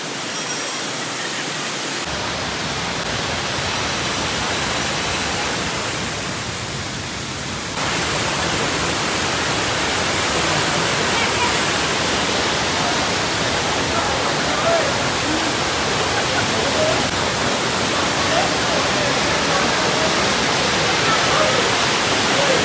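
Broad, steady roar of the Bheemeshwar waterfall beside the temple on the Sagar–Bhatkala road near Kogar, filling the whole scene continuously and growing slightly fuller partway through, with no breaks.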